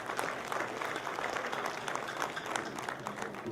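An audience at a festival event claps together in a dense, sustained burst of applause, steady throughout with no pauses.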